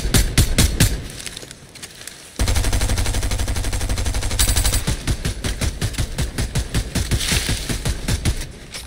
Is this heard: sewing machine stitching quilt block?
no